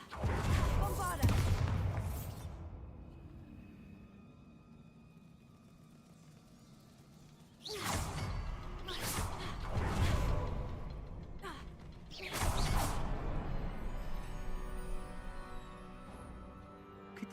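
Bombarda spell blasts in the video game Hogwarts Legacy sound as several loud booming explosions with crackling debris, separated by quieter stretches, and a voice is heard among them.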